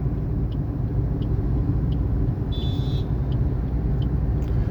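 A car being driven under acceleration during a driving lesson in Jaipur gives a steady low engine rumble from inside the cabin, with faint regular ticks and one brief high beep above it.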